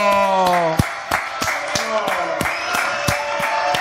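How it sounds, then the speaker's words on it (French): Studio audience on a French television news-chat show clapping in a quick, fairly regular rhythm, close and lively, mixed with a voice speaking or singing over the claps. "Ramuncho, allez, on applaudit très fort"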